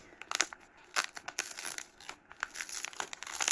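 Packing tape tears and crinkles as a cardboard carton is opened, a close run of sharp ripping bursts and crackling with brief pauses between pulls.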